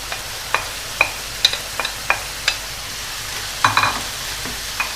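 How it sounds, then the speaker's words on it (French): Vegetables stirred into beef frying in a pan for tex-mex tacos, with a soft continuous sizzle and repeated sharp scraping clicks of a utensil against the pan, close up. "je vais rajouter du coup mes légumes"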